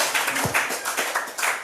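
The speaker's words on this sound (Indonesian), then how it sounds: "kita bersama-sama berikan tepuk tangan yang meriah buat Allah kita" A congregation applauding during a Sunday worship service in church: a short stretch of dense, loud, sustained hand clapping from many people, with no talk.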